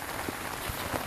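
Rain falls steadily on a tarp strung over a hammock among leaf-strewn woods, a soft continuous patter with a few heavier drops standing out, fairly close and even throughout.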